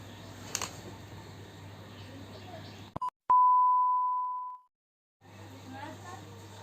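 After a phone call is hung up, a couple of quick clicks lead into a single long, steady electronic beep tone that holds for over a second and then cuts to silence, with faint room noise before and after.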